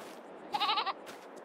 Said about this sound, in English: Look! We have baby goats!